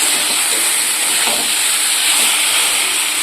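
Potato and pointed gourd curry sautéing in a pan for a Bengali rui fish head dish gives a steady, loud, close frying hiss that holds without a break.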